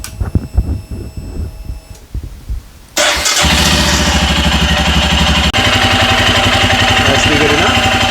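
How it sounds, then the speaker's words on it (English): A Royal Enfield Scram 411 motorcycle is cranked and fires up after some handling noises, then settles into a loud, steady, throbbing idle close by for the rest of the time. "just start it up, let the bike warm up just to get the oil nice and warm."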